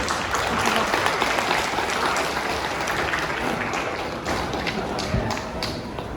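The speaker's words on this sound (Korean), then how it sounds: "뜨거운 박수로 맞이해 주시기 바랍니다" Warm, sustained applause from wedding guests welcoming a friend forward to give a congratulatory speech, dense clapping that holds steady throughout.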